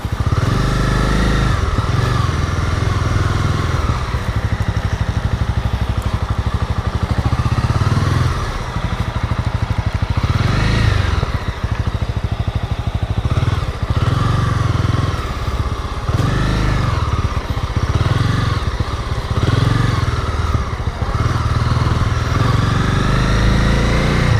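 A 2018 Honda CB300R motorcycle engine drones loudly and continuously while riding, with repeated rises and dips in revs as it accelerates and shifts.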